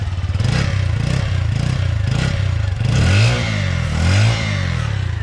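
A nearly new Junak M12 Vintage motorcycle's small engine putters close by at a rhythmic idle, then revs up twice in quick bursts before settling back.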